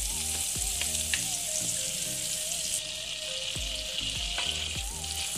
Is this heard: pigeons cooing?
no